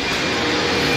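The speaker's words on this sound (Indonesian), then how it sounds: "Oke, ini dia mesinnya, dengar dulu ya" An older VW New Beetle engine runs under the open front hood, a loud, steady, close-up mechanical drone with no breaks and no voices.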